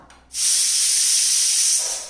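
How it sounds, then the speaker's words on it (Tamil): A pressure cooker cooking raw banana rice with ghee lets out a loud, steady hiss of escaping steam that starts abruptly, holds for over a second and then begins to fade, with no talk over it. "இப்போ வந்து ரெண்டு விசில் வந்துருச்சு"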